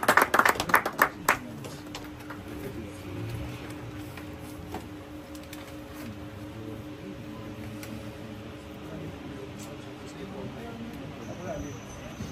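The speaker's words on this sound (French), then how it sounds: "Sous vos applaudissements, s'il vous plaît" An audience at an International Day of Cooperatives event applauds a league federation representative with a brief burst of clapping, which quickly dies away into room noise while a voice speaks over a low background.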